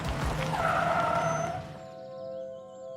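A car brakes hard to a stop, tires squealing and skidding loudly for about a second and a half before the noise drops away into a quieter hum.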